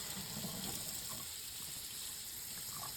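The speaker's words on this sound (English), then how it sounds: "and then refill with cold water." Cold tap water runs steadily into a pot of rinsed potatoes in a kitchen sink, a close, even gush that continues throughout with no talk.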